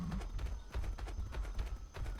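A horse walks in the video game Atlas, a soft, steady clip-clop of hooves on the ground, fairly faint with a low rumble underneath.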